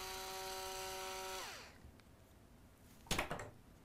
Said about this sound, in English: Our wine opener that sounds like a power tool.